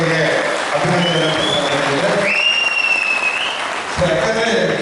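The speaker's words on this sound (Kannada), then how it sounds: "ಇವರಿಗೆ ತಮ್ಮೆಲ್ಲರ ಒಂದು ಜೋರಾದ ಚಪ್ಪಾಳೆ ಮುಖಾಂತರ ಅವರಿಗೆ ಅಭಿನಂದನೆ." A seminar audience bursts into sustained applause at the closing session, a steady roar of many clapping hands under talking voices, with a brief whistle-like tone rising midway.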